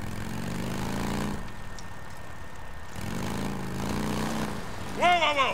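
A helicopter's steady droning hum in the video game Days Gone holds at a constant level, then a sharper whining sweep rises near the end.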